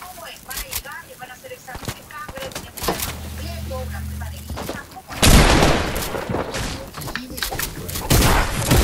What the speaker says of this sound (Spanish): Está peleando, escucha un disparo de pistola.